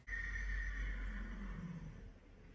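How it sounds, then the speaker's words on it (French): A horse gives one long sustained whinny, close and fairly loud, with no talk over it. "Et le cheval est d'accord."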